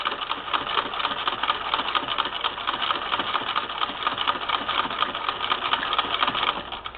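A 1959 Singer Spartan sewing machine stitches steadily through quilted cotton fabric, a continuous fast mechanical clatter, close and even throughout with no voices.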